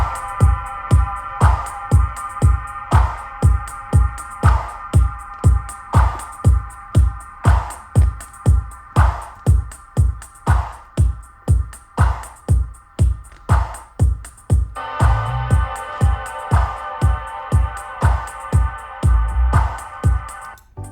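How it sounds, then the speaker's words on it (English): Music from a 1981 vinyl record playing steadily on its own, with a driving, evenly repeating beat and layered tones that shift slightly past the midpoint, loud and close. "Pretty miraculous that this record is from 1981 and it sounds like this."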